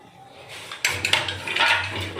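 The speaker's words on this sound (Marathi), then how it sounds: "तवा उचलून ठेवते इकडं" A cooking pan is lifted and set down in a home kitchen, with a light metallic clank and a few scraping knocks of cookware, fairly close.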